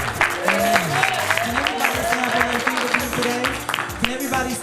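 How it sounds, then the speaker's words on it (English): A crowd at a gospel television show applauds for a singer, steady clapping heard under music and talk throughout. "give a big round of applause for Mr."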